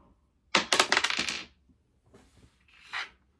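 Polyhedral dice of several types, from D4 to D8, are rolled onto a table: a close, sharp clattering burst about a second long, then a faint brief rattle and one last small clack.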